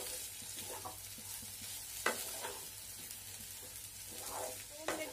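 Jeera aloo, cumin-spiced potatoes, sizzles quietly in a pan while a spoon scrapes and stirs in irregular strokes, with a couple of sharper knocks against the pan, close and soft, with no talking.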